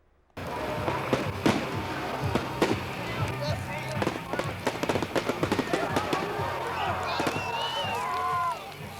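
Fireworks crackle and pop in rapid bursts with some whistling rising streaks, distant-sounding amid crowd noise and voices, at Alcan's 40th anniversary celebrations in Kitimat, August 1994.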